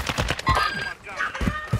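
Rapid bursts of gunfire in Call of Duty: Modern Warfare II Resurgence crack repeatedly in a quick rhythm, close and punchy, with talk partly mixed in.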